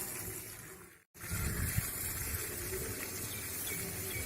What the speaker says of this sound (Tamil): சின்ன நெல்லி, அரைநெல்லிக்கு தண்ணி விடுறாங்க.